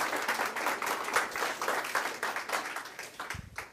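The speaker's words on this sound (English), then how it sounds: "Let's have a round of applause for cannabis." An audience at a cannabis-themed webcast event gives a round of applause, with lively, dense clapping that tapers slightly near the end, where a low thump sounds.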